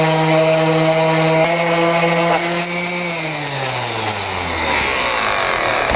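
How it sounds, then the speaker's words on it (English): An orbital sander running on a Concept2 oar blade gives a steady, loud mechanical whine and hum whose pitch slowly drops as it works across the surface. "we're going to start by sanding into the corner of the blade and working our way across the whole surface"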